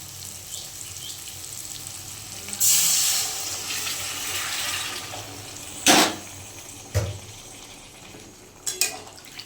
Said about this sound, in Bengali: প্রায় হয়ে নেবে, চলে এবার অল্প জল দিয়ে দিই।